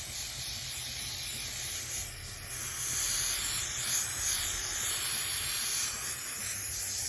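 A continuous spray hisses inside a Ford Transit van during an insulation build with KILMAT and Thinsulate, swelling slightly midway and running steadily throughout with no talking.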